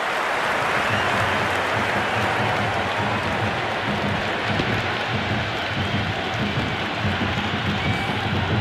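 A packed cricket stadium crowd roars after a big six at an IPL match between Bengaluru and Gujarat, a dense, loud, sustained wall of cheering and noise that never lets up.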